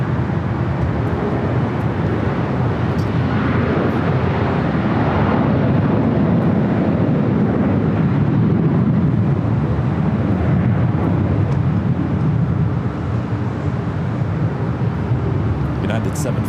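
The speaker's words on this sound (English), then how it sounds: "United 757-200 taking off there on the south side" A United Boeing 757-200 airliner takes off from the south side at LAX, giving a steady, broad engine roar that holds loud throughout, mixed with wind buffeting on the microphone.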